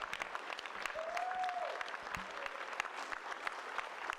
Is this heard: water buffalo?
no